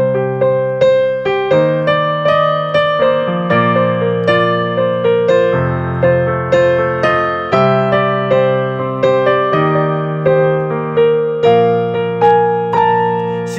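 Piano melody played over sustained chords in a single key, steady phrases of notes struck one after another, close and clear with no talking.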